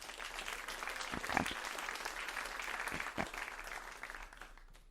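An audience at a Whitney museum talk gives steady applause to welcome a speaker to the stage. The crowd claps in a dense, even wash for about five seconds, a little distant, with a few louder claps standing out.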